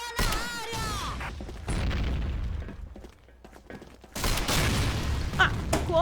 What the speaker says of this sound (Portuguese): Bomba na área.